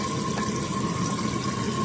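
Water running and splashing as murky rinse water is poured away while washing a homemade water filtration experiment, a steady continuous wash throughout with no talking.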